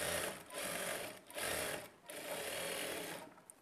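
A sewing machine runs in quick, steady bursts as it stitches a lining cloth onto blouse fabric, with three short runs separated by brief pauses, close and fairly quiet.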